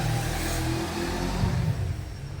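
A Holden Commodore VY Series 2 LS with a 3.8 litre V6 engine and high mileage revs steadily up close, a loud continuous engine roar that eases slightly near the end.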